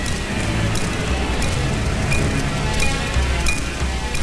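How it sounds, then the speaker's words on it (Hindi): Steady rain falls throughout outside a house at night during a tense scene in the Hindi film Kaun, a constant dense hiss with no clear voices over it. "बारिश हो रही है"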